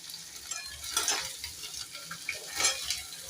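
Chopped onion stir-fried on high flame for Chinese-style noodle bhel, a steady sizzle broken by repeated scraping clinks of a spatula against the pan, close and fairly loud with no talking.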